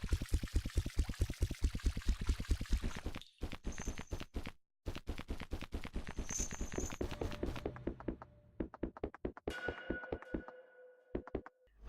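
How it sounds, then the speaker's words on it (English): Footsteps splashing through water in the caverns of an indie video game, a quick steady run of wet taps that pauses briefly, then resumes and slows to spaced steps near the end. "Now there is splashing in the caverns instead of dust puffs"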